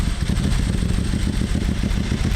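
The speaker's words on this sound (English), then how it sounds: "gives the Tesi 3D a very distinct high-tech sound, a clean, powerful whine that's different from anything else on the road" Tesi 3D motorcycle engine running steadily and loudly up close, a dense, even drone with a rapid pulsing underneath and no speech.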